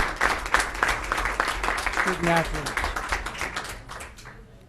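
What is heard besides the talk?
applause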